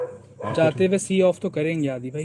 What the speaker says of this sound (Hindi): यार कुत्ते भी भौंक रहे हैं